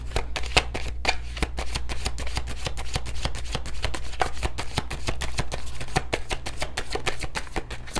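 Tarot cards are shuffled continuously by hand, a dense, steady run of crisp card riffles and flicks over a low constant hum, close and fairly loud throughout with no talking.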